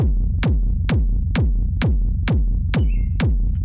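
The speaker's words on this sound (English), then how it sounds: "With the processing, it sounds like this." Eight quick kick drum hits in a steady pulse, heavy and saturated with a gritty, sustained low body that barely drops to silence between beats.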